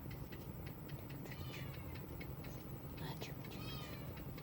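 A pet cat meows several times, faint and close in a quiet room, with short rising calls spread through the moment.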